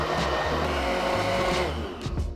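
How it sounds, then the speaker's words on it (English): An electric blender whirs steadily and loud, blending an almond and oat milk smoothie, its motor drone continuous throughout before a couple of brief bumps at the end. "And now, we just proceed to blend"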